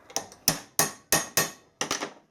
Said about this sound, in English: I'm just going to use a transfer punch just to get an accurate